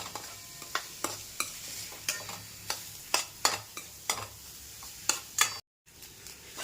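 Grated fresh coconut stir-fried in ghee over medium heat, a soft steady sizzle broken by repeated sharp scrapes of a spatula against the pan in a loose rhythm, close and fairly quiet, with a brief gap near the end.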